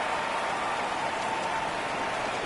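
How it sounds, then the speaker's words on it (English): Steady rain falls over an outdoor football game, a continuous broadband hiss with no breaks and no voices, even and fairly loud throughout. "The rain set to continue as we are underway in the second half."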